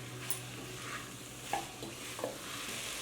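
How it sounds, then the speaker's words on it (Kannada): Mixed vegetables fry in a little oil for a kootu, giving a soft, steady sizzle close by. A few faint stirring scrapes and clinks sit on top, and no one speaks. "ಸ್ವಲ್ಪ ಎಣ್ಣೆಯಲ್ಲೇ ತರಕಾರಿ ಫ್ರೈ ಆಗಬೇಕು."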